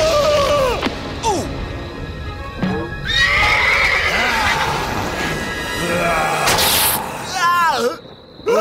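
A cartoon horse whinnies several times amid galloping hoofbeats, crashes and thumps, loud and close, with voices talking in between.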